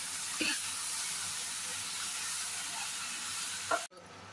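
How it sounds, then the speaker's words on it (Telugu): Three spoons of yogurt fry in a pan with spicy chicken masala, giving a steady, close sizzling hiss throughout with a couple of brief scraping stirs. "ఒక 3 స్పూన్లు పెరుగు వేసుకోవాలి. వేసుకొని కొద్దిసేపు వేయించాలి దాన్ని."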